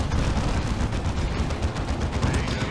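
Grenades go off and guns fire in a Dawn of War 2 Retribution match, a dense, continuous rumble of bursts and battle noise at steady loudness, with someone's voice faintly underneath.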